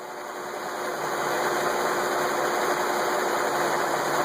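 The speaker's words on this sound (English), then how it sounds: "Engine slowing down a little bit." A Trailblazer's 4.2-litre engine idles with low oil pressure, a steady droning hum with a faint whine that swells slightly at the start and then holds constant, close and fairly loud, with no talking.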